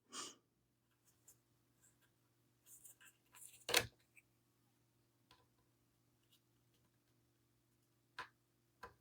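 A 555 IC timer circuit set by a potentiometer to low frequency, giving sparse, faint clicks spaced unevenly across several quiet seconds, with a few louder taps and a low steady hum underneath.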